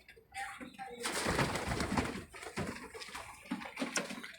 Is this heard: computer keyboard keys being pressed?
no